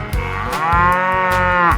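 A cow moos in a 3D animal slide video game, one loud, close, sustained low moo with rich harmonics, heard alone.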